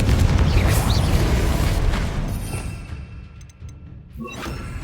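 A Confringo fire spell explodes in Hogwarts Legacy combat, a loud booming blast with rumbling debris that fades into quieter crackles and a final burst.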